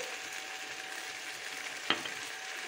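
Vegetable macaroni for a cheesy dish frying in a pan, with a steady close sizzle and a sharp scrape of a spoon being stirred through it partway along.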